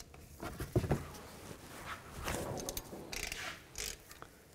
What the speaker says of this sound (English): I'm going to use a 14mm socket. Loosen the top one, and then loosen the bottom one.